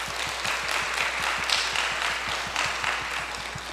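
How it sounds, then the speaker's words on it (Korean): A congregation at a church healing service claps in a steady, rhythmic beat, with sharp regular hand strikes over a broad wash of applause, sustained and fairly close for several seconds. "하나님께 다시 한번 감사해 박수"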